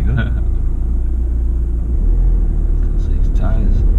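A car engine rumbles low and steady with too much throttle applied during a driving lesson, a constant drone beneath close conversation inside the vehicle.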